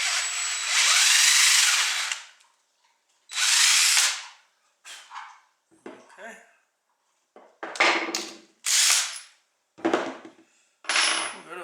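A power drill running a 3/8 bit enlarges a hole in a Browning Auto 5 shotgun buttstock in several bursts, starting with long whining runs and moving to shorter spurts and clinks, with quiet pauses between.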